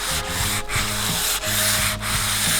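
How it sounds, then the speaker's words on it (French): Steady hand sanding of a doubtful coating on an upcycled mirror frame with fairly fine sandpaper, loud and close, in four long back-and-forth strokes with brief pauses between. "Je ponce doucement avec un grain qui est pas trop épais"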